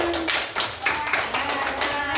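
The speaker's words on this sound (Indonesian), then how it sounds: "beri tepuk tangan" An audience claps, a dense patter of hand claps close by that continues steadily throughout, with a brief voice at the start.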